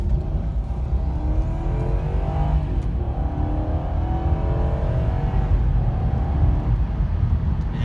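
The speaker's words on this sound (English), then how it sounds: "We'll get a little acceleration run right here, leaving this stop sign" A 2006 Lexus LS430 pulls away from a stop sign, its engine note rising steadily through the gears as it accelerates, a smooth, continuous drone heard from inside the cabin with no talking.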